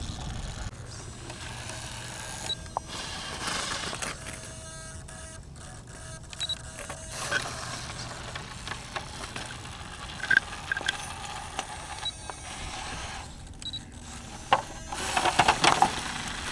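An Axial XR10 RC rock crawler whines along a backyard rock course, its small motor and gears buzzing at low volume with intermittent clicks and scrapes as it climbs and flexes over rocks.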